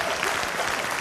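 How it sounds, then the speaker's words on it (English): A church congregation breaks into applause during a Sunday service, a dense, steady wash of many hands clapping, full and continuous, with no single voice standing out. "Let's give the Lord a big praise clap for that."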